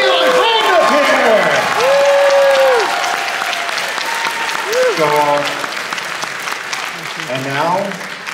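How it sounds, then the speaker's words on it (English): Warm audience applause at a dance competition rises under music with sliding, sustained tones, then thins and softens toward the end. "Can I get a warm round of applause for my fine feeling friend up here?"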